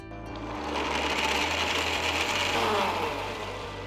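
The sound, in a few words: mixer grinder blending pistachios, milk and saffron into paste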